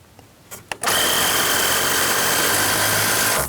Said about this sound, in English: And that's how I screw one of those screws in.